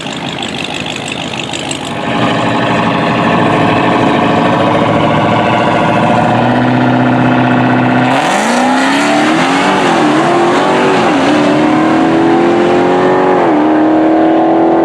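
A 972-horsepower Redeye Charger drag car launches from the line and makes a flat-out pass down the strip, its loud supercharged engine roaring with rising pitch through the gear changes, sustained and close, with no talk.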